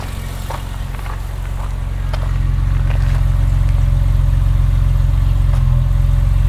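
A BMW E30 Mtech engine idles after a cold start with a steady, close low rumble and light mechanical clatter, its idle rising slightly and holding steady, with no talking.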